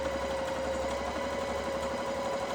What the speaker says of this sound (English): both of them right sides together, and we're just stitching up there, stitching up here